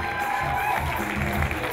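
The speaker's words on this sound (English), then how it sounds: "Let's give her a big round of applause" Guests at a wedding reception clap and cheer for the bride's grandmother, a short busy burst of crowd applause with voices mixed in, fairly close.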